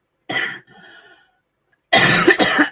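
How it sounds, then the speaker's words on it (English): A person with a cold coughs in two bursts, one short hack followed by a quieter rasp, then a louder double cough near the end, close and clear with no talking. "I need a break to cough. I've still got a cold."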